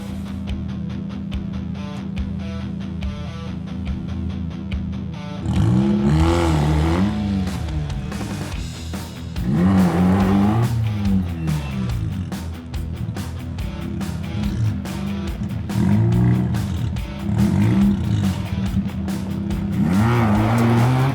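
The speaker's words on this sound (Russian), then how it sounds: "Теперь можно закрыть дверь и проверить мощность двигателя с такими колесами." A Quadra V-Tech car with dual wheels in the video game Cyberpunk 2077 revs repeatedly in rising surges over a steady low engine drone, loud and close, with no talking.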